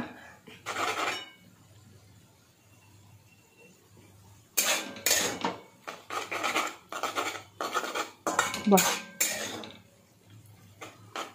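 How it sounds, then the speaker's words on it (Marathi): Fenugreek greens being mixed into crushed peanuts in a pan, with bursts of scraping and stirring from a spatula separated by quiet gaps, close and moderately loud. "पुन्हा एकदा मेथीची भाजी छान अशी या शेंगदाण्याच्या कुटामध्ये मिक्स करून घेऊयात"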